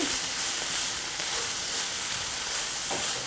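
Spring greens sizzle steadily in a hot pan as they are stirred, a close, continuous hiss of frying with faint scraping and no talk.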